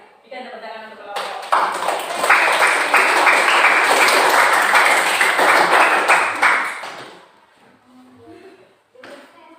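A classroom of students claps for a presenting group, the applause swelling after a second and holding steady for several seconds before fading out, with brief talk at the start and end.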